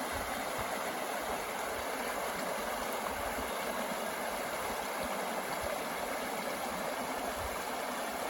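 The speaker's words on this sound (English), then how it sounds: "This is the Oconomowoc River." Oconomowoc River running high, a steady broadband rush of flowing water, continuous and fairly close with no pauses or voices.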